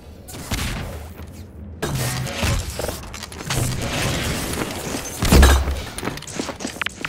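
An RPG rocket in Half-Life 2 Deathmatch launches with a rushing whoosh and then hits in a heavy booming blast near the end, over continuous gunfire and game noise.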